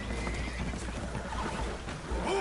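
Spooked horses whinny in Red Dead Redemption 2 aboard a boat taking on water, one high neigh rising near the end over a dense wash of churning water and creaking noise.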